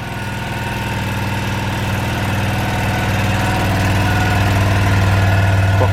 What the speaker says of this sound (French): la moto a démarré